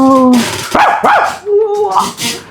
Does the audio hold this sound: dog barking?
yes